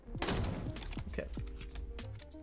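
Assault rifle fire rattles in a video game, a rapid close volley of sharp shots with tonal game effects ringing underneath, loud throughout the brief burst.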